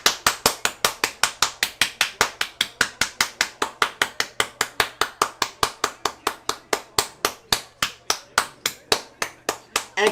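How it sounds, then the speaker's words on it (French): Rhythmic clapping in a steady, even beat, about four to five claps a second, sharp and close, continuing unbroken for the whole stretch with a low hum underneath and no talk. "Applaudissez avec moi les amis, applaudissez tous."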